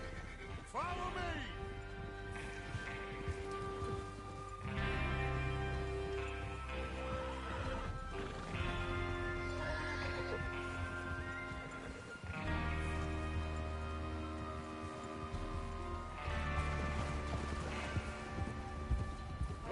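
Horses whinny and snort over clip-clopping hooves, with voices talking intermittently and a background score in a game scene set during preparations for a train robbery.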